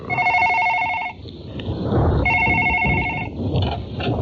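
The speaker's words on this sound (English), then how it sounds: "One day in January 2018, her phone rang." A telephone rings with a repeated electronic trill in two clear bursts separated by a short pause, loud and close over a busy noisy background.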